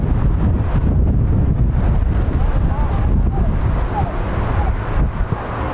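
Steady, loud wind buffets the microphone outdoors at a youth soccer match, a constant low roar that fills the whole stretch and nearly buries faint sounds beneath it.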